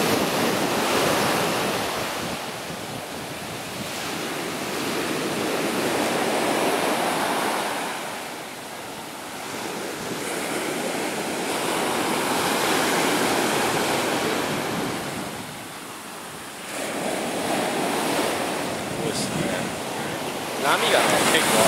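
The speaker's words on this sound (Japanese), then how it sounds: "波がね、結構ある。" Ocean waves wash onto Unawatuna Beach, Sri Lanka, in slow surges, swelling and receding several times, with wind buffeting the microphone.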